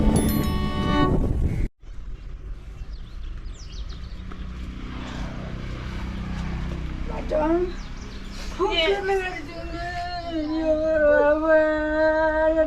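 A dog howls in long rising and falling wails after a sudden sharp cutoff, growing louder toward the end with other noises mixed in.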